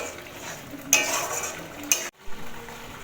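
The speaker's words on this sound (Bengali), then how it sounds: "আমি এর মধ্যে একটু গরম মশলার গুঁড়ো দিয়ে দেবো, দিয়ে এটা একটুখানি কিছুক্ষণ নেড়ে নেব" Garam masala powder stirred into masala in a hot pan of oil with whole spices, giving a steady sizzle and a couple of sharp scraping strokes from the stirring spoon.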